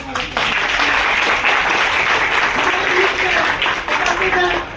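A crowd at an Agrawal community gathering in Bhopal for the Agrasen Maharaj birth anniversary bursts into loud, sustained applause that fills the hall, with voices faintly audible beneath the clapping.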